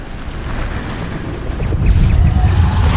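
A Bombarda explosion spell goes off in the Hogwarts Legacy video game, a deep booming blast that swells up after a quieter rumbling start and hangs on as a heavy low roar.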